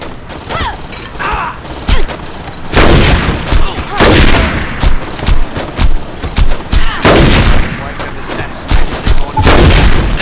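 Gunfire in the video game Saints Row 2, loud bursts of shots and booms packed closely together in repeated volleys, with brief quieter gaps and mechanical clatter between them.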